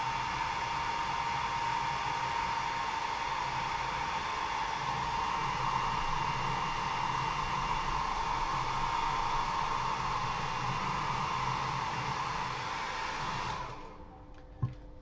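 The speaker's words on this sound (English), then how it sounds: "So that satin sheen, I'm going to go ahead and blow dry that," A hair dryer blows steadily and loudly on hairspray-coated paint, a continuous close-up whoosh that holds unchanged for most of the clip before cutting off near the end with a small click.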